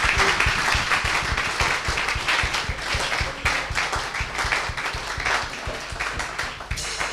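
A church congregation at a Sunday service applauds steadily, with dense, continuous clapping that holds at an even level for several seconds.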